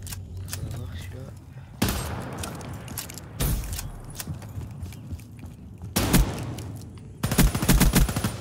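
Marshal 16 gunfire in Call of Duty Black Ops 3 on the Nuketown map comes as several heavy, loud shots spaced a few seconds apart, with game clatter and a voice in between.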